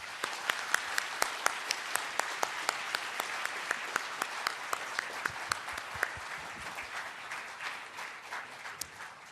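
A lecture audience at the Chinese University of Hong Kong applauds steadily to welcome Professor Edmund Phelps. Crisp individual claps stand out over the sustained roar, which eases slightly toward the end.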